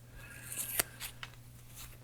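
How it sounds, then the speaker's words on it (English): Scissors snip through pieces of tape in short, quiet cuts, with one sharper snip standing out amid faint handling noises at close range. "chop up a couple of pieces of tape about the right length"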